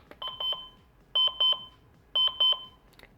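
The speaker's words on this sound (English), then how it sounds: "That means it's set to the beep." A Haptime alarm clock beeps in quick bursts of four, repeating three times with short pauses between, crisp and close in a quiet room.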